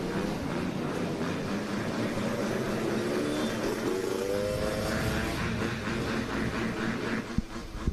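Vintage supercross bikes and ATVs rev at the starting gate of a women's class race: a dense, continuous roar of several engines with rising and falling pitch, loud and sustained, ending in a couple of sharp knocks.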